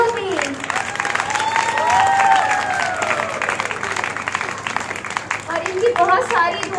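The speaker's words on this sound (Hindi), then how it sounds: "तो मैं आपकी भरपूर तालियों में अपने मामू को यहाँ स्टेज पे बुलाऊंगी" An audience applauds as a guest is welcomed onto the stage at a testimonial event; sustained crowd clapping runs throughout while someone speaks over it and music-like tonal sounds rise and fall beneath.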